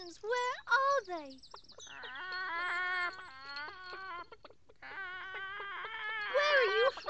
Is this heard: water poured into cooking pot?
no